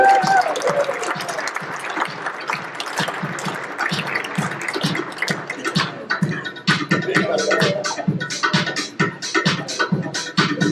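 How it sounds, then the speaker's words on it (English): Sustained applause from an audience, dense clapping that continues for the whole stretch with some crowd noise and a voice briefly underneath. "give this here a nice round of applause"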